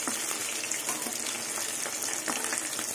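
Silver carp pieces frying in hot oil give a steady, close, broadband hiss and crackle that runs throughout with small pops, no voices.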